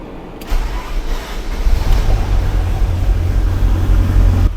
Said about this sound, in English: the car is running finally, and I'm gonna show you that right now